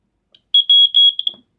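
A smoke detector with its battery at 8 volts gives a string of sharp, high-pitched beeps in quick succession, followed by a faint clatter.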